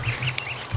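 Adult ducks in a pen lined with chicken wire, giving a few short nasal quacks close by over low rustling, with no talking.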